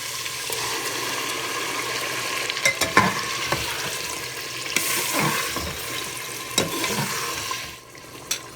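Tomatoes and ground onion paste fry in a hot pan with a steady close sizzle, broken by scraping and clinking stir strokes that grow louder in bursts before the sound drops off near the end.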